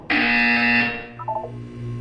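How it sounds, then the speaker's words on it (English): A loud harsh buzzer in the video game Portal 2 sounds for nearly a second and cuts off, followed by a few quieter electronic beeps and a low hum. "When you hear the buzzer, look down at the floor"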